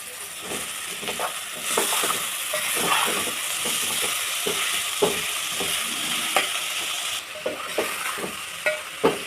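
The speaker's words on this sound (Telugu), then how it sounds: "ఇలా ఒక టూ త్రీ టైమ్స్ మధ్యలో కలుపుతూ ఉండాలండి నూనెలో వేగితే స్మెల్ అనేది రాదు" Moringa leaves frying in oil in a pan with onions, with a loud continuous sizzle broken by frequent rhythmic stirring scrapes and clicks from a utensil, close up.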